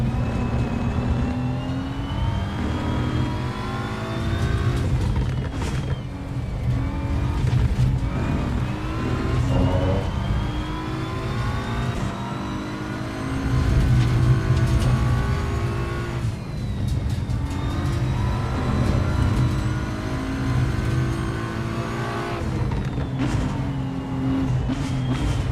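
Ferrari race car engine in Assetto Corsa EVO, a loud, sustained high-pitched wail that rises and falls with gear changes and revving, running steadily throughout with no talking.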